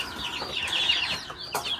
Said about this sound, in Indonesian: Nah, terus tuh nih ayam yang agak gede-gede di sini.